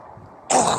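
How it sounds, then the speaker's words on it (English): A man with a cold clears his throat in one short, loud burst after a near-silent lead-in. "I'm trying to clear my throat"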